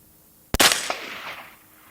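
A single sharp rifle gunshot at an outdoor range during scope testing, loud and close, followed by a short echoing tail rolling off into the distance.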